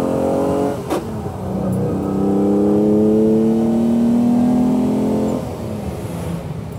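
A classic Ferrari 365 GTC/4 V12 revs hard and close, its tone rising and holding in a loud sustained roar for several seconds before dropping away, with no talking over it.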